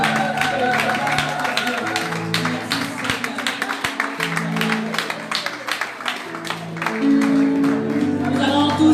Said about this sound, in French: Acclamons-le, acclamons-le encore une fois